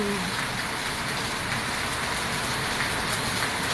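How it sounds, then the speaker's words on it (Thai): Steady rain falls outdoors in a dense, continuous hiss that holds even and fairly loud from start to finish, with no voices over it. "ธรรมชาติฝนตก ได้ยินเสียงแล้ว"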